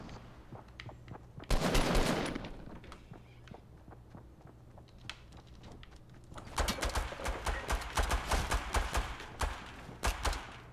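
Rapid bursts of gunfire in a Fortnite match, a loud burst early on and then a dense run of quick repeated shots, with footstep-like taps and a steady low hum underneath.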